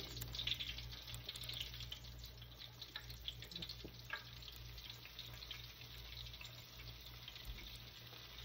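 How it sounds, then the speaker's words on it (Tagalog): Chicken pieces fry in oil with a faint, steady sizzle and soft crackle, a low continuous hiss under a constant background hum, quiet and unchanging with no talking. "So, umpisa na natin i-fried yung chicken natin."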